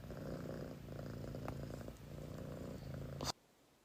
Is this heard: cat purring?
yes